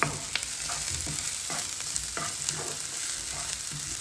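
Beef for black pepper beef fry sautéed in a pan, a continuous close sizzle broken by quick spatula scrapes and stirring clatter, with no talking.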